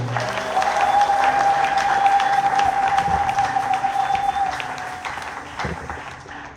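A church congregation at a Sunday service applauds steadily, a dense sustained clapping that fills the space and slowly thins toward the end, with a faint held tone running beneath it.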